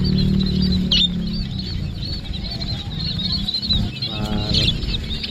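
Lovebirds at a market stall chirp and twitter close by, with wings fluttering and short bursts of calls over a busy, continuous market din.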